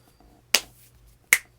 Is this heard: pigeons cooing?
no